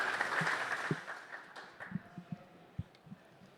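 Applause from a conference audience at the end of a panel discussion on Ethereum client diversity, a soft wash of clapping with a few louder individual claps, fading out over a few seconds.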